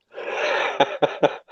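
A sharp breathy burst followed by three quick explosive bursts, close and loud, like a sneeze with short coughs.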